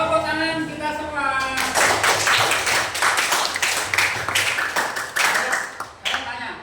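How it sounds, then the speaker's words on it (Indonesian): Students in a classroom clap together, sharp, fast, uneven claps rising right after a teacher's voice and continuing close and loud for several seconds before tapering off. "Tepuk tangan kita semua."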